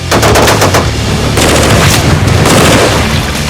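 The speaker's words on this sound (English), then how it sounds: "the German gun fires accurately up to a kilometre" A WWII half-track's mounted machine gun fires long, loud, close bursts of rapid shots that merge into a continuous roar, with rolling booms beneath the rattle.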